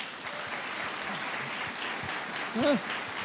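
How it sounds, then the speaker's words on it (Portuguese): Congregation applauding the Lord during a Portuguese-language evening church service: a steady, fairly distant wash of clapping, with a brief raised voice near the end. "Aplauda o Senhor"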